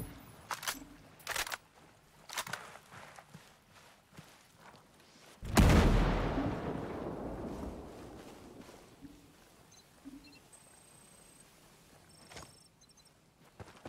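A mortar emplacement firing in Ghost Recon Breakpoint sends out one loud, sharp blast that decays slowly, set against quiet scattered clicks and small thuds.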